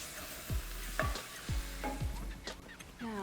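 Mushrooms frying in a pan over high heat, a steady sizzle broken by several scraping stirs about every half second, close and moderately loud with no talking.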